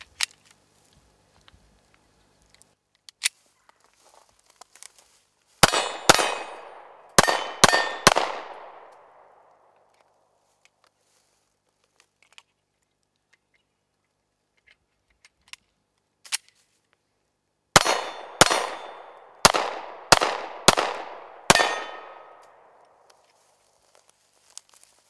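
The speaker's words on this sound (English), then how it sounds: "I'm going to take my first shots with the Glock 43 and see how that does." A Glock 43 9mm pistol fires at a steel target in two quick strings of several shots each, every crack followed by a ringing metallic clang that fades, separated by near silence.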